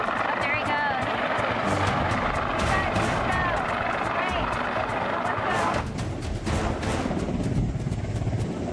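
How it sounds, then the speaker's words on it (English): Steady rotor and engine roar of a Coast Guard helicopter hovering close over a ship at sea in a storm, filling the scene continuously with a broad mechanical drone and faint voices underneath. "A Coast Guard helicopter hovers overhead, retrieving blood samples to rush ashore."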